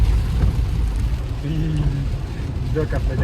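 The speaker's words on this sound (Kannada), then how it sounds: "ಹೊರಗಡೆ ಹೇಗೆ ಮಳೆ ಹೋಯ್ತಾ ಇದೆ ಅಂತ" Rain falling outdoors in Sirsi, Uttara Kannada, a steady broadband hiss close by that continues throughout, with a brief low hum and faint tonal sounds partway through.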